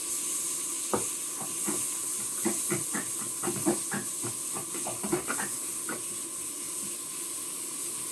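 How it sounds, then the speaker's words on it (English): Loud continuous sizzling and hiss of food frying in hot oil in a wok while cooking chicken curry, with scattered clinks and scrapes of a utensil stirring in the pan. "put a little bit more oil into the frying pan or into the wok"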